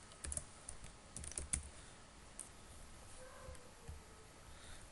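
PHP code is typed on a computer keyboard as a quiet run of close, irregular key clicks, a few louder taps standing out near the start.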